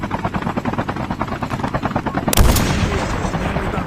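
Helicopter rotors thump steadily in a Call of Duty Mobile battle royale match, then a loud burst of gunfire and an explosion-like blast cut in, followed by continued rotor noise.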